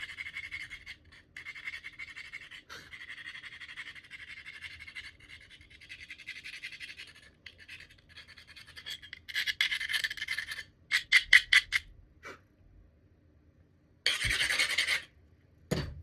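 Grinding tool working dirt out of a carved shape in caribou horn, a faint steady rasping that swells into several louder bursts of scraping, with short gaps and quiet pauses between.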